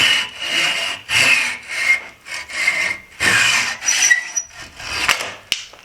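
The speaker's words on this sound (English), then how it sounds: "we're going to cut off about 1 inch of this" A hand saw cuts through a 1/4 inch wooden dowel in a steady rhythm of about seven rasping back-and-forth strokes, close and alone, ending with a small snap.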